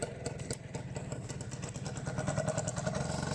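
A moped's small engine putters steadily nearby on a path, a rapid buzzing throb that grows slightly louder as it passes, with no talk.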